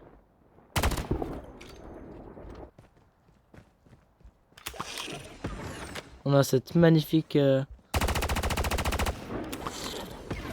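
Mechanical clicks and clacks of a weapon being reloaded in a game, with sharp bursts and someone speaking between them.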